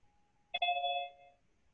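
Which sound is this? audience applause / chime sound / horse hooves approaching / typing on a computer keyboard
chime sound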